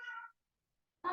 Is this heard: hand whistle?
no